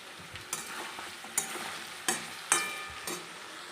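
Meat frying in a pan on a home stove, a steady crackling sizzle broken by a few sharp stirring clacks and scrapes at close range, with no talking.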